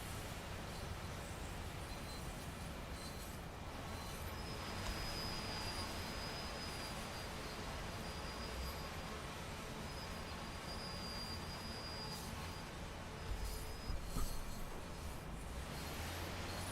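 Steady rumble of a freight train in Train Sim World 2 on the Clinchfield Railroad, with thin, high brake squeals rising over it several times, the loudest near the middle and end.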